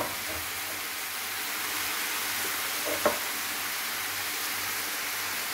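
Leeks, zucchini and carrots stir and sizzle in a pan: a steady close frying hiss runs throughout, with a brief clink of a utensil partway through and no talking.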